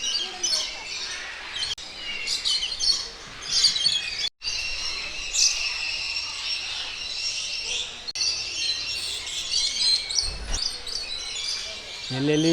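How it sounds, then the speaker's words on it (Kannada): Parrots in an ashram aviary, including parakeets, Amazons and cockatoos, keep up a dense mix of chirps, whistles and squawks at moderate distance, with faint voices mixed in. "ಎಲ್ಲೆಲ್ಲಿಯೋ ಗಿಳಿಗಳು."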